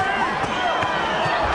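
Boxing arena crowd at a cautious heavyweight bout between Vladimir Klitschko and Jamil McCline, a steady dense murmur of restless spectators with scattered thumps, no clear cheering peaks.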